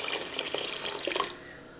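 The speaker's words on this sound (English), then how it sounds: "I'm going to add some water." Water pours steadily from a tap into a pot of high-protein lentil chili with textured vegetable protein, a close, continuous splashing rush that fades slightly toward the end.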